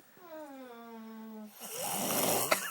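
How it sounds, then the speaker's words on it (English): Heavy nasal snoring from a man asleep, a drawn-out rumbling breath followed by a rougher, louder snort-like inhale, close and alone with no talk. "quit snoring"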